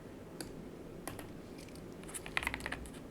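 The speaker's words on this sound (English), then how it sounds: "I wonder how the keyboard sounds" A computer keyboard gets a handful of sparse, light keystrokes, then a quick cluster of taps near the end, close and quiet with no talking.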